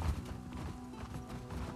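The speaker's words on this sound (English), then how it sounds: "Man, it's so nice to have horses in this game." Horse hooves clip-clop at a steady trot in the video game The Last of Us Part II, moderately close and even in rhythm, with soft game ambience beneath.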